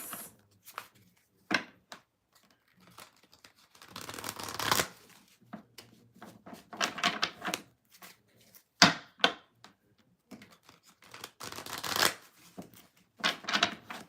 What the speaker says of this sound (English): Thank you for your patience while I shuffled 100 cards